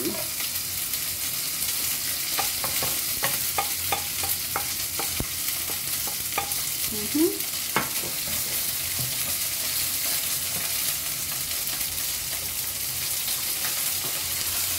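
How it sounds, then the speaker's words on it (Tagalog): Chopped garlic fries in cooking oil, giving a continuous close sizzle with scattered clicks and scrapes of stirring early on and no talk. "Lagay natin ang ating na-chop na garlic."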